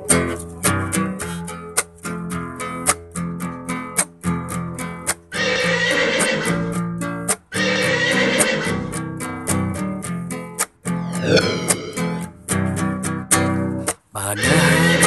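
A horse pulling a delman carriage whinnies over a bouncy children's song with steady rhythmic music, the neigh rising and falling amid the tune while light clip-clop beats run through the track.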